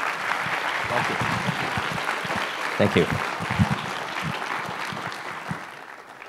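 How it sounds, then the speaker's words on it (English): An audience at a charity science summit applauds a speaker in steady, sustained clapping, while a voice speaks briefly over it. "Please give him a big round of applause."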